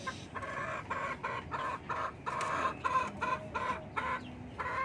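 A fighting rooster, still healing from a wound, clucks in a rapid run of short, close, fairly loud calls with brief gaps between them.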